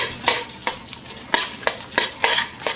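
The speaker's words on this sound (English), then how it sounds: "I'm gonna put the cheese and the eggs in and stir it quick" Rhythmic scraping and sizzling strokes as spaghetti carbonara with bacon, garlic, cheese and eggs is stirred briskly in a pan, about seven quick close-up passes in under three seconds, with no talk.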